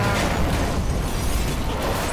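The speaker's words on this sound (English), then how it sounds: "The explosion was kind of small for a gas tanker." A gas tanker truck blows up in Marvel's Spider-Man on PS4, giving a dense, roaring blast of broadband rumble that holds at steady loudness through the short stretch.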